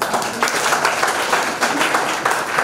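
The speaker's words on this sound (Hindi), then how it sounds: "तो बजाओ ताली" Audience applause during a Hindi youth leadership speech, a steady burst of many hands clapping with slight rhythmic pulsing and no clear voices.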